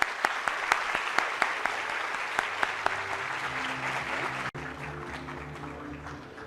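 Audience applause at a formal award ceremony of federal public defenders, a steady dense wash of clapping with a few sharp claps standing out, continuing throughout and dipping briefly near the end.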